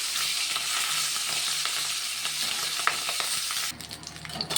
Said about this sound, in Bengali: এবারে মাথাগুলো সুন্দর করে ভেজে নিচ্ছি,